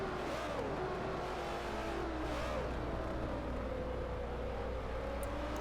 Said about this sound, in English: it'll be a Chevrolet versus Toyota fight as they go braking into turn 1 here